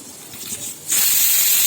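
A pressure cooker cooking green gram lets out steam: quiet kitchen noise gives way, just under a second in, to a loud, sustained hissing whistle that holds steady to the end.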